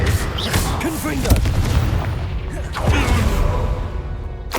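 Fiery Confringo spell blasts burst in Hogwarts Legacy combat, loud booming impacts with crackling debris and creaking mechanisms, a couple of heavy hits amid ongoing battle noise, with voices calling out spells between them.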